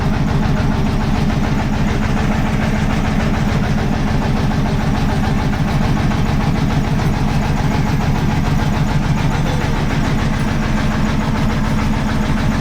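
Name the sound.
boat engine in reverse gear turning boat toward jetty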